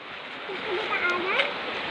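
River water rushes and splashes over rocks in a steady, close churn, with a faint voice briefly heard beneath it.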